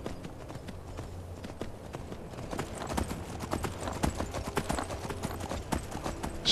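Horse hooves clip-clop in a steady rhythm while riding along a road in Skyrim, fairly close and continuous throughout.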